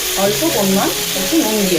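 Onions frying in oil with bay leaves, a dried red chili and cumin seeds as tempering for a simple homemade chicken dish, a steady close sizzle throughout with faint stirring and a few tonal sounds over it, no talking.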